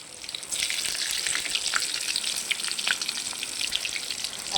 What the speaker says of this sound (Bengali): এই তেলে টমেটোটাও ভেজে নেব।